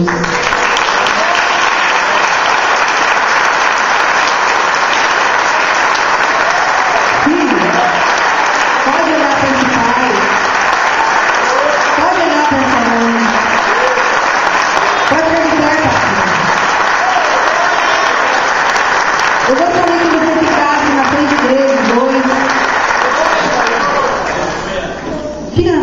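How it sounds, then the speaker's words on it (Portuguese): An audience at a church tribute gathering applauds a pastor with sustained, full clapping for about twenty-five seconds, while a voice sounds faintly over the crowd before it tapers off at the end. "você merece uma salva de palmas para Jesus"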